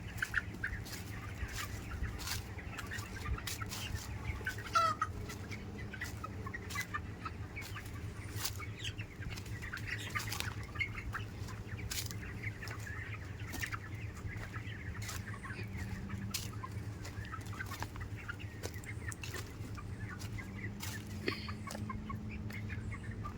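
Many chickens on a large poultry farm cluck and call at a distance over a low steady hum, a continuous busy chorus of poultry with no talking.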